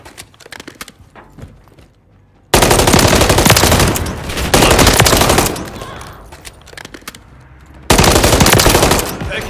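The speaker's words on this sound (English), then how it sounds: "Taking effective fire." Machine gun fire on the Favela map of the Modern Warfare 3 beta with the MCW rifle: scattered shots, then long, loud, continuous bursts that stop and start again.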